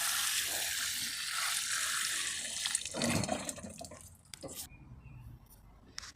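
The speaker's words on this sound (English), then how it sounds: "giving that a bit of a water" Water pours and splashes steadily for a few seconds, close by, while watering dahlia plants in a garden, then tapers off into quieter drips and small rustles.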